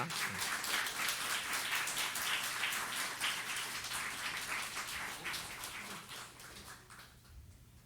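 Warm applause greets two missionaries arriving to give testimony at a church gathering in Gyeongju. Dense, steady clapping fills the room throughout, then thins and fades out near the end.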